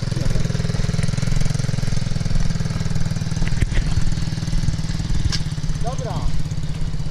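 Close, loud MRF 80cc pit bike engine running and revving with a rough, rapid buzz, a voice speaking briefly over it.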